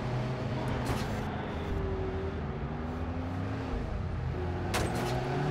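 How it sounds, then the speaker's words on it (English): A heavy-duty vehicle drives in the video game Watch Dogs Bad Blood, its engine a steady loud rumble with a shifting pitch, joined by brief hissing bursts, all heard without talk. "this guy is driving a pretty heavy-duty vehicle"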